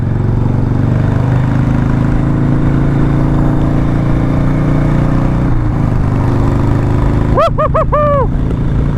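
Harley-Davidson Sportster motorcycle, lightly customised, running steadily while being ridden, a loud continuous low engine drone with wind rush, and a brief high warbling tone near the end.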